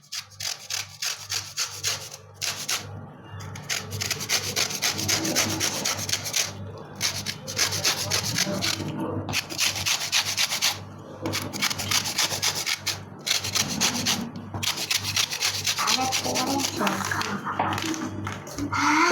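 A gondhoraj lemon is rubbed across a grater in a kitchen, making steady rhythmic rasping strokes with brief pauses between passes.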